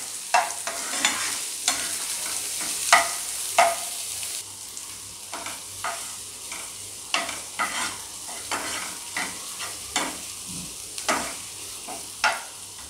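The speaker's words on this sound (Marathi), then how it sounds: "कांदा पण चांगला फ्राय करून घ्यायचा आहे 1-2 मिनिट" Onion frying with ginger garlic paste in a pan, a steady sizzle with repeated scraping stirs at irregular intervals, close up and with no voices.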